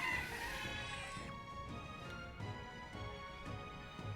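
A big bird creature approaching in the video game Metaphor: ReFantazio, heard as clucking, fowl-like calls with rhythmic low thumps over an ambient music bed, steady and moderately close.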